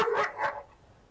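Dogs barking as a non-lethal deterrent sound, two loud barks in quick succession, then a fading tail.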